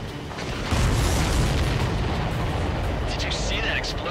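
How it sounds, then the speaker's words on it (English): A missile blast hits an enemy supply aircraft in Ace Combat 7, a loud rumbling burst that swells suddenly and rolls on as a sustained roar, with faint radio-style chatter near the end. "The missile hit the supply ship dead on."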